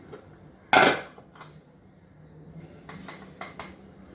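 A spoon works curd into khaman dhokla batter in a bowl: one sharp metallic clink against the bowl, then a few lighter taps and scrapes, close and without voices.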